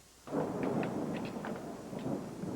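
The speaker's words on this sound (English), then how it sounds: "It's one hell of a storm out there, huh?" Thunder from a heavy storm rolls in a sustained, low rumble after a sudden onset, with a few sharper crackles rising through it and no one speaking.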